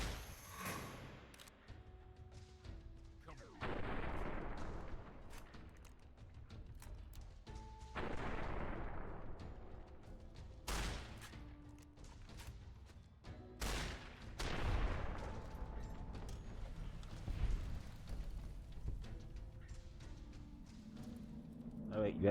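Rifle gunfire in Fallout: New Vegas, scattered shots and booming reports from a fight with a gang, fairly faint, with someone talking over the shooting.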